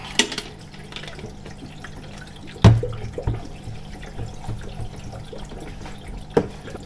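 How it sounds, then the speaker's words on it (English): Water poured from a can onto the roots of a potted plant in a jungle-style terrarium box, soft splashing and trickling with a few louder splashes and drips, close and alone. "And get those roots wet."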